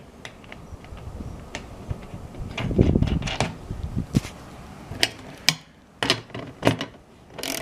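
Ratchet tightening a nylock nut over a washer on the frame of a Gorilla Carts GCG-4 poly dump cart, heard as a run of sharp, close clicks and ticks with short pauses between bursts.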